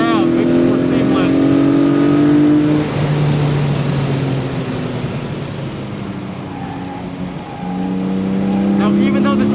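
Porsche 718 Boxster GTS 4.0 on a race track, its engine droning steadily and shifting up into fourth gear with a slightly uneven rev match, the note dipping and then rising again, heard alongside a voice.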